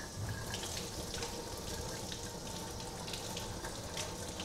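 Tap water runs steadily from a faucet during handwashing in a home kitchen, a faint continuous hiss and splash with no talking.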